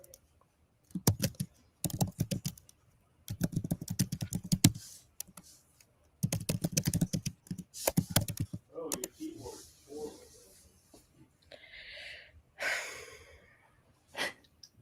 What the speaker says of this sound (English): Apparently my keyboard sounds terrible